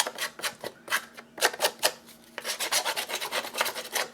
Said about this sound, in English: rough up the paper.